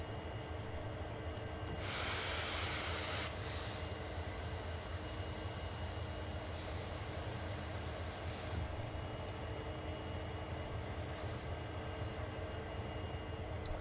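Simulated freight train air brakes release in Train Sim World on the Sand Patch Grade, a loud hissing burst of air over a steady low locomotive rumble, followed by shorter softer hisses.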